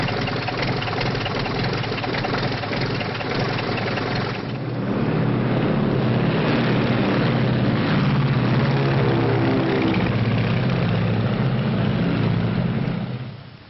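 A 1930s aircraft's engine and propeller drone steadily as the plane readies for takeoff, the rumble swelling louder and fuller partway through before cutting off abruptly.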